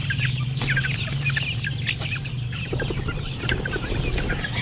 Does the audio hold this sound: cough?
no